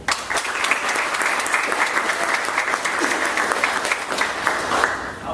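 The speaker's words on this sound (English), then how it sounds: "I'd also like you to join me in a round of applause for Ronnie and Elliot." A round of applause from a crowd at a Chicago kickoff event for the Friend Movement, with brisk, dense clapping that stays steady and fairly loud throughout.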